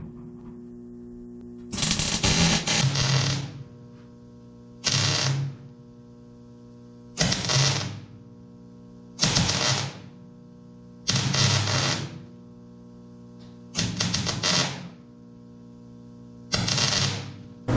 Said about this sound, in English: So we're welding across the top now finally